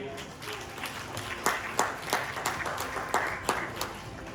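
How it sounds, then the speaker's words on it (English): Applause for a volunteer at a sport psychology keynote on heart rate variability in Bangkok, a modest crowd clapping with several sharp individual claps standing out over a steady patter. "Big applause for Gary!"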